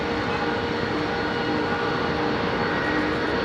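A cargo freighter jet at London Heathrow gives off an unbroken, even engine roar that holds steady from start to finish.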